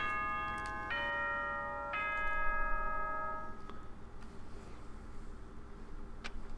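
A chime sound effect from the video game Danganronpa rings out as a sequence of bright, sustained tones, followed by a faint hum with no speech.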